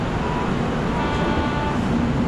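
A local train rumbles past close by near a bridge in India, giving a loud, steady, broadband roar with a continuous low drone.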